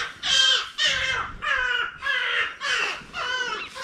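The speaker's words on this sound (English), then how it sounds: "I have no idea what's going on outside, but the birds are having a great time." Crows cawing just outside a mesh camping tent in a UK garden, a series of six or seven loud, harsh caws in steady succession, close and clear with no talk over them.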